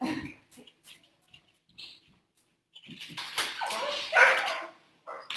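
A dog named Lemon gives a few sharp barks and soft whimpers in a quiet indoor room, with short yips and whines spaced out, then a louder burst of barking near the end.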